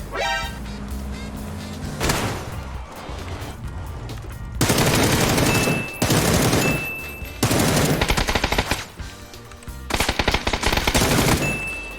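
Loud, close automatic gunfire from PUBG rips out in long, dense bursts separated by brief pauses, with one short opening volley and several sustained strings of rapid shots.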